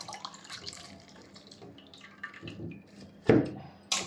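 Tap water runs and splashes faintly as fresh leaves are rinsed by hand for a hair pack, with soft drips and a couple of louder bursts of splashing.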